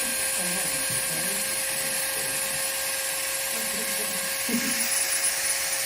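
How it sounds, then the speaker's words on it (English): A Dremel rotary tool grinds down thick, overgrown toenails, producing a constant high-pitched whine that runs the whole time, with soft voices murmuring underneath. "So we're gonna Dremel these down"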